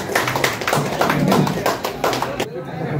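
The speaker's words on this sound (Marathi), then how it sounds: "उपस्थित असलेल्या सर्व कार्यकर्त्यांनी टाळ्या वाजवायच्या." Party workers at a felicitation ceremony at a student hostel in Mulund, Mumbai, clap in a dense burst of applause that fades out near the end, with a speaker's voice over it.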